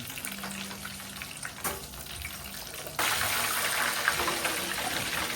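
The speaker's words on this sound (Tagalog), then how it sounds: "Ito yung advantage kung naka-deep fry." Chicken deep frying in hot oil gives a steady crackling, bubbling sizzle that jumps noticeably louder partway through, with a faint clink near the middle.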